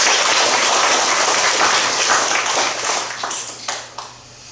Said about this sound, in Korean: 우리 하나님께 박수로 한번 영광 올리겠습니다